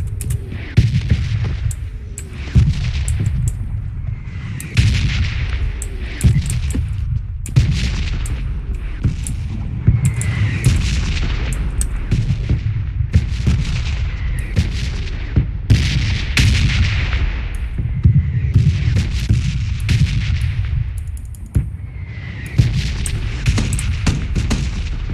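Gunfire in PUBG Mobile fills the scene: repeated sharp shots and booming reports, some in quick bursts, over a constant loud rumble of game noise for the whole stretch.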